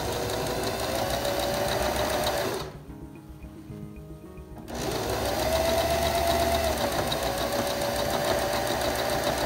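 A sewing machine stitches a cloth face mask, its steady mechanical whir running, halting for about two seconds, then resuming at full speed, loud and close with no talk.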